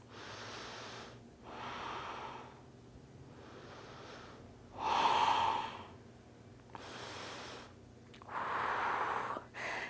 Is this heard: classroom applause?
no